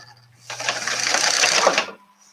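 A serger sewing machine stitches fabric for makeup pouches, a close, fast whirring chatter lasting about a second and a half, starting and stopping abruptly over a faint hum.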